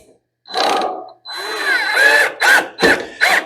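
A power drill whirs in several short bursts, starting and stopping as it drives screws into the plastic console of an LG dryer, close and loud with brief pauses between runs.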